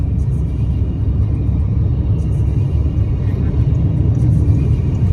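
A car driving on a road, heard from inside, gives a steady, loud low rumble of engine and road noise with no clear change and no talking.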